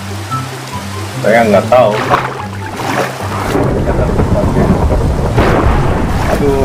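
Nighttime rain in Minecraft pours as a steady hiss with low rolling rumbles, running under a voice at first and then continuing alone, loud and close.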